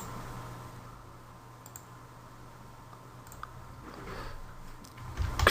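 Faint, quick keystrokes on a computer keyboard as text is typed, a soft irregular clicking close by over quiet room hum.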